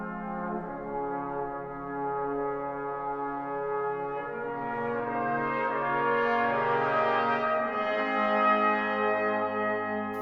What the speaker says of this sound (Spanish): este sería el leitmotiv del Santo Grial